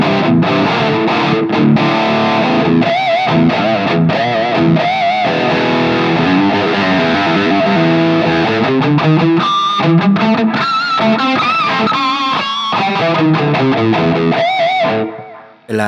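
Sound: Fender Stratocaster electric guitar played through distortion, humbucker sound

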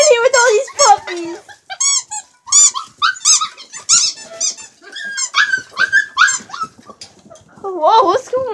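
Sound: husky puppies whimpering and squeaking

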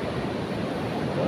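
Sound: ocean waves at Widara Payung beach

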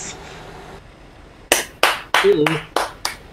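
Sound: clapping hands

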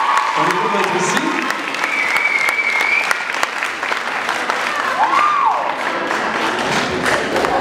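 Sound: audience applause

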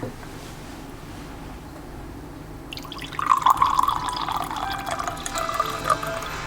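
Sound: tap water being poured

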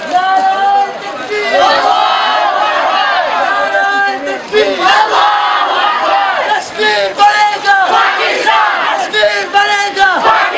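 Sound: students chanting slogans at a rally

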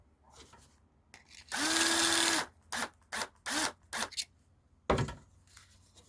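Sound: electric drill boring holes in wood

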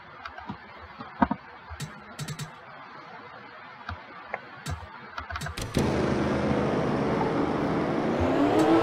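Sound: pace car engine in NASCAR Racing 2003 video game

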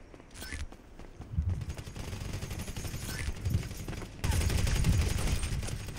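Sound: shotgun gunfire in video game GTA 5

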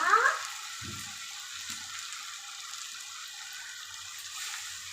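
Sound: squid added to the pan of fried onion, tomato and masala

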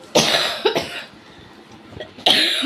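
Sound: coughing

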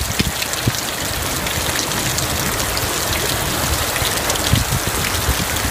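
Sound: hail falling during a storm in Cave Creek, Arizona

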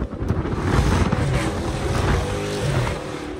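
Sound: loud Dodge Charger SRT 392 engine while driving

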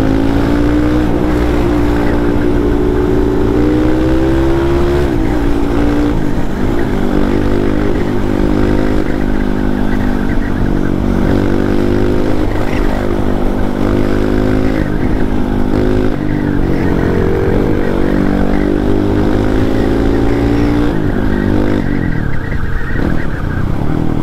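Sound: Honda CRF and local supermoto motorcycles racing

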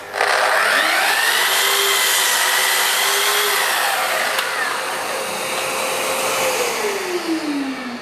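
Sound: Festool Kapex sliding miter saw cutting wood with dust extraction

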